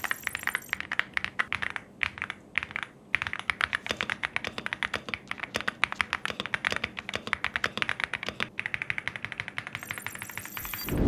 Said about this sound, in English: We have an FR4 plate that's been my favorite type to go to for a nice typing sound.